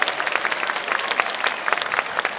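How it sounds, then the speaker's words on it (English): Dense, lively applause from students and staff filling a whole-school assembly, steady and close for its short duration. "Give yourself a round of applause."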